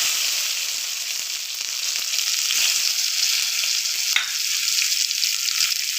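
Tomatoes fry in mustard oil for a chutney, giving a steady, bright sizzling hiss up close, broken by one sharp stirring clack midway, with no one speaking.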